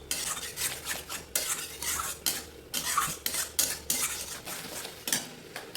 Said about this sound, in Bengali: মিডিয়াম ফ্লেমে অনবরত নাড়াচাড়া করতে থাকবো।